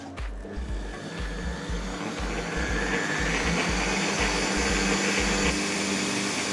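Blender whirring while blending an arugula and herb pesto with oil: a loud, steady motor drone with a pulsing low churn as the mixture turns over, running continuously.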